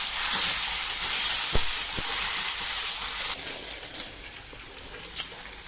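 Tomatoes tossed into a hot pan for an eggplant parmesan sandwich sizzle with a loud, steady hiss that settles quieter partway through, broken by a few sharp crackles and pops, close up and without talk.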